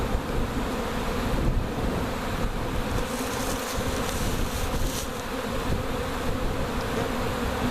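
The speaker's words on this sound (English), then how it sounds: "it went from a bunch of bees flying around to a swarm." A honey bee swarm buzzes densely around a box outdoors, a loud continuous drone of many wings close by with no speech.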